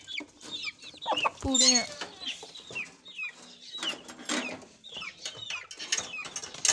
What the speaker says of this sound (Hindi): अभी दूसरे चूजे हैं जो उन्हें बंद करना है